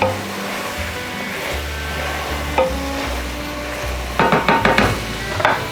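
Spices being stirred into Texas chili meat in a pan over high heat, giving a steady sizzle with scraping and clinking of a utensil toward the end.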